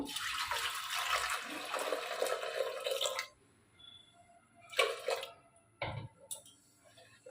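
Water is poured into a cooking pot holding washed papaya, potato, carrot and lentils for dal, a steady splashing pour for about three seconds, then quieter drips and small clinks close by.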